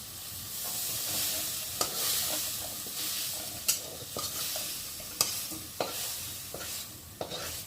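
Soybean chunks fry lightly in oil in a pan, a soft continuous sizzle broken by several sharp clacks of a spatula stirring them, close but fairly quiet.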